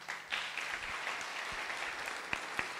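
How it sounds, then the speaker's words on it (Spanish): A church congregation breaks into sustained applause, dense overlapping clapping that holds steady throughout, with a few sharper individual claps standing out near the end. "Den un aplauso al Señor."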